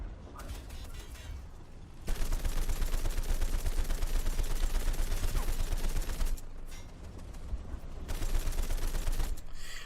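Dense bursts of automatic gunfire rake a player's vehicle in War Thunder, loud and continuous rattling in long stretches with short lulls between, close and harsh.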